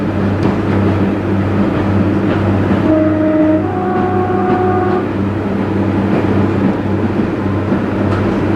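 A passenger train heading toward Warrington on a line from Conwy gives a steady, loud rumble from inside the carriage, with a brief two-tone horn-like hoot partway through.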